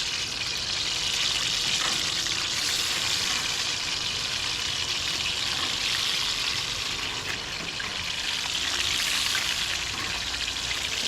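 Chicken for Jamaican ackee and chicken fries in a backyard pan, making a loud, continuous sizzle and crackle with faint stirring and no break.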